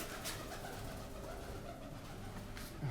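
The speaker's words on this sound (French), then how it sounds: "Ok, pigeon." A pigeon coos softly in an abandoned building, low repeated calls over a faint, roomy background hiss with no voices.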